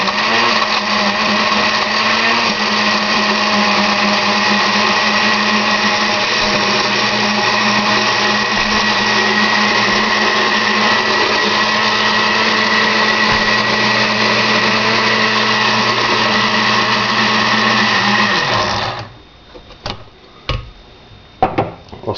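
A food processor whirs steadily at high speed through horseradish and vinegar for about eighteen seconds, a loud continuous motor whine, then cuts off abruptly, leaving a few faint clicks and knocks.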